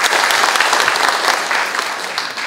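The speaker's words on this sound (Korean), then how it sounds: "예, 박수 한번 주시죠." Audience at a rural community policy forum in Gongju, Korea, breaks into a burst of loud, dense applause that holds steady and then eases slightly toward the end.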